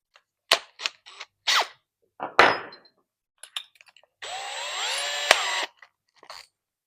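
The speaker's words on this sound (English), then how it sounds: "let's drill a 9mm hole" Drill boring a 9mm hole through a self-centering drill guide with a bushing, heard as a few sharp clicks and knocks, then a steady whine for about a second and a half, followed by a final snap.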